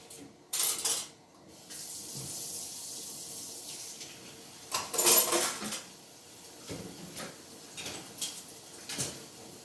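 Water runs from a kitchen tap over items being washed in a sink while making matza ball and chicken soup, with bursts of louder splashing and faint clinks of dishes against a steady low flow.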